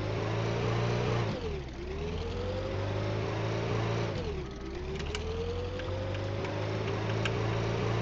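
A school bus engine in the Brick Rigs video game drones loud and steady, revving up in two rising sweeps, each after a brief drop, with a constant low hum beneath.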